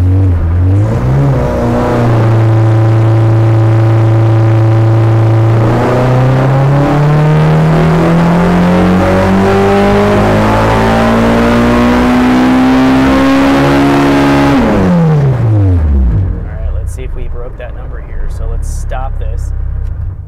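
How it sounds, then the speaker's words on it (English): A Honda EG Civic with a high-compression K20/K24 engine on a dyno, idling then pulling through a long rising rev run to high rpm before dropping off abruptly, very loud and close. "And then we will do our pull. All right, let's put it into gear here."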